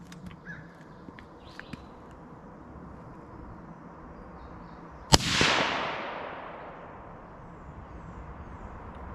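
A single suppressed shot from a Bergara rifle, a sharp crack followed by a fading rolling echo across open ground, preceded by quiet outdoor ambience.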